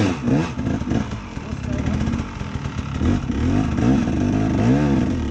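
A motorcycle engine runs and revs on a rural mountain pass while the bike is rolled back up after dropping, its uneven rumble steady throughout under people talking nearby.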